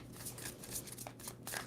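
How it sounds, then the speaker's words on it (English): Tarot cards being shuffled during a reading, a steady papery riffling and sliding that runs continuously with a few sharper snaps, close and fairly quiet. "2 more shuffles for Taurus."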